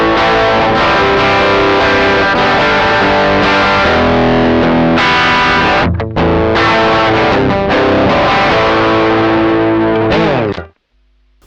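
An electric guitar played through a NUX 63 Diamond pedal, a Vox-style amp-in-a-box, gives a loud, raucous distorted rock tone with no reverb, chords ringing continuously before stopping abruptly at the end.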